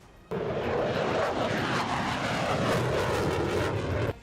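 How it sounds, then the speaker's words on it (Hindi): F-16V fighter jets roar overhead in a loud, steady engine rush that starts abruptly, holds for about four seconds and cuts off, with no voices over it. "लड़ाकू विमान का जत्था आसमान में ऐसे उड़ा कि उसकी दहाड़ ने कान फाड़ डाले"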